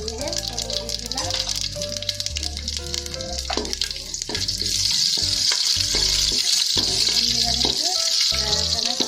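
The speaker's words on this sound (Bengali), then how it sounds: "গোটা মশলার ফোড়ন দিয়ে দেবো" Whole spices (bay leaf, black cardamom, mace, cinnamon, cloves and cumin) hit hot oil for a chicken pulao, and a loud, dense sizzle swells up partway through over background music.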